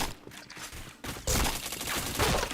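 Gunfire in a shooting video game: a fast volley of shots, then after a brief lull a dense, loud burst of rapid automatic fire that continues to the end.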